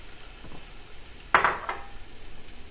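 Shrimp dropped into a pan of sizzling garlic, a soft background sizzle broken by one sharp burst of hissing and a clink as the shrimp land, then settling back to a quieter fry.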